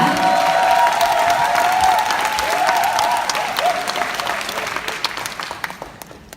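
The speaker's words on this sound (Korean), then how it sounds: "큰 박수로 환영해 주시기 바랍니다" A seminar audience in the Seoul metropolitan area gives a big round of applause with a few cheers to welcome a speaker to the stage, loud and sustained at first, then gradually thinning out toward the end.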